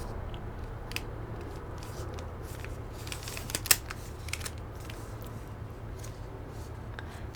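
Paper is folded into an origami bow. Soft, crisp creasing and rustling come in scattered bursts, with one sharper crease near the middle, close up over a quiet room hum.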